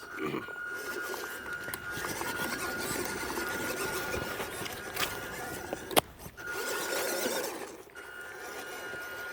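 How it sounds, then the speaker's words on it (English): A WPL B36 RC truck fitted with an MN260 motor and gearbox runs with a steady high-pitched motor whine over continuous rumbling and scraping, dipping briefly near the end with a sharp knock midway. "the 260 motor seems to be pretty fast"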